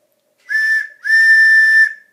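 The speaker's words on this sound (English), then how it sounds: "my train whistle." A toy train whistle blown twice close up, a short shrill toot followed by a longer steady one, with silence around them.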